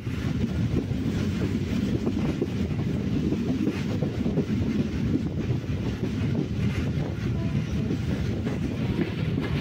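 A passenger train runs toward Chottanikkara Road railway station with a steady, loud rumble and rail clatter throughout, along with wind buffeting close to the microphone. No talking is heard.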